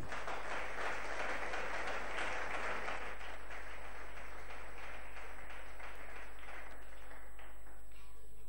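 A church congregation claps together in sustained, dense applause that starts full and gradually thins and fades over several seconds, heard at a moderate distance in a reverberant hall.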